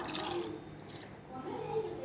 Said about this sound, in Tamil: இப்போ தேவைக்கு வேகிறதுக்கு நம்ம கொஞ்சம் தண்ணி விட்டுக்குவோம்